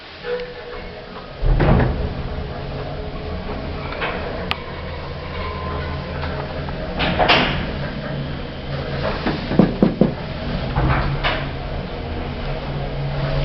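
An old passenger lift at Barts Hospital starts its climb with a couple of clunks and knocks, then carries on with a steady low mechanical hum and occasional rattles in the car.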